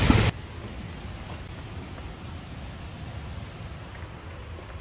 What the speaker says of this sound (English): I just got here and now it's raining pretty good.